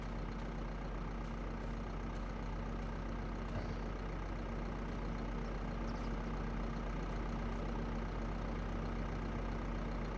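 Tractor engine idling in Farming Simulator 25, fitted with a mulcher on the back, a steady low continuous drone that holds unchanged throughout with no talking.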